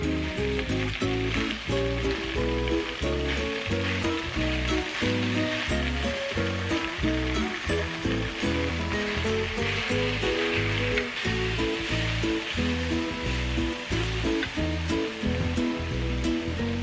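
A seasoned mixture fries and sizzles loudly in a pan as it cooks down, a constant bubbling hiss with steady stirring scrapes throughout and no voices.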